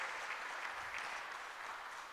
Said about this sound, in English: Can we kindly give Mr. Martin Pibu another round of applause?